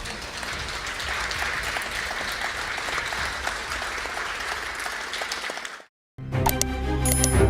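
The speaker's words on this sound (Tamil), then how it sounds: "எல்லோரும் எழுந்து நின்று பலமாக கைத்தட்டுவோம்" Loud, sustained applause from a large standing crowd fills most of the clip, then cuts off abruptly and gives way to music.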